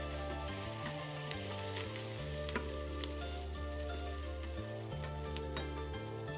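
Carrot and onion fry in sunflower oil inside an Instant Pot for Chinese fried rice, giving a steady, fairly quiet sizzle with occasional stirring clinks over soft background music.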